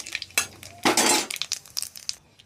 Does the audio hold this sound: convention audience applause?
no